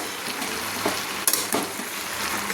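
Pumpkin and malabar spinach with a catla fish head are stirred in a wok, a dense steady sizzle with a couple of louder scraping stirs against the metal.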